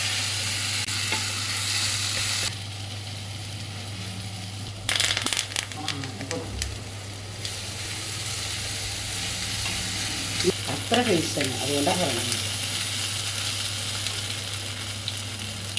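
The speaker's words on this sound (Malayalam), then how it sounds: "കടുക് പൊട്ടിയത് നോക്കണം കേട്ടോ" Mustard seeds sizzle and pop in hot coconut oil with a steady hiss and bursts of crackling, while a person talks nearby and a low hum runs underneath.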